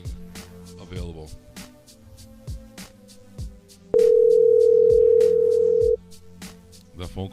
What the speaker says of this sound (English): That phone call is gonna sound mad loud, kid.